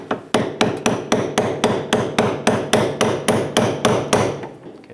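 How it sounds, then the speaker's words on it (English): Fifteen sharp metallic hammer strikes driving a 10mm socket onto a fuel tank clamp on a 1997-2001 Lexus ES300, in a steady, even rhythm, close and loud, each ringing briefly before the next. "try to hammer it on here gently"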